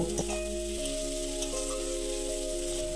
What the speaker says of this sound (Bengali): পেঁয়াজ কুচিটা দিয়ে 2 থেকে 3 মিনিট তেলের সাথে আমি হালকা লাল লাল করে ভেজে নেব।